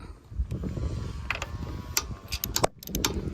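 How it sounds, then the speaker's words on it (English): A wrench tightens a nut on an undercarriage bolt of a Coleman LT 17b, giving close metallic clicks and ratcheting ticks over a low rumble, with a few sharp clustered clacks near the end. "The bolt isn't spinning, so I can just tighten this all the way up."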